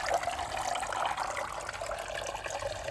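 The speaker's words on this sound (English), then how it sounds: "I'll be switching this waterfall off and making it so it's just a circulation pump again" A garden koi pond waterfall runs steadily, giving a close, continuous rush of splashing and trickling water with no voices over it.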